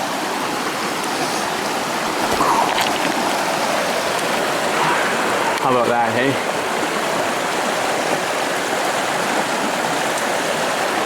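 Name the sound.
glacier-fed mountain stream flowing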